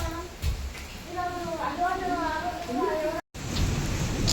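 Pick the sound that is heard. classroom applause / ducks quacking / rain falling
rain falling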